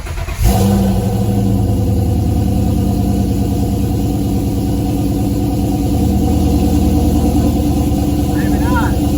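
A swapped Ford Foxbody coupe with new mufflers runs after a sharp start, holding a deep, steady, rumbling idle close by for several seconds.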